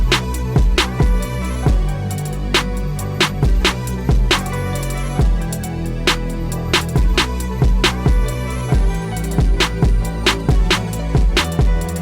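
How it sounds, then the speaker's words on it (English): Looping drum pattern thickened with analog clipping and an LA2A compressor, punchy kicks and snappy hits in a steady groove with a low bass bed, loud and continuous with no voices. "Actually, I added analog clip to just thicken the drums up a bit and added a LA2A compressor"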